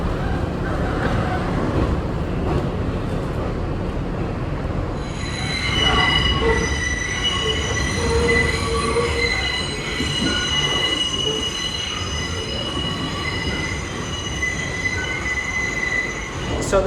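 A New York City subway train rumbles along the tracks, its wheels letting out a loud, sustained high-pitched squeal partway through.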